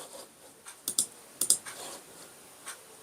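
A computer keyboard clacks in a handful of close, crisp key presses, including a quick pair of taps for a Ctrl+A shortcut, separated by brief pauses in a quiet room.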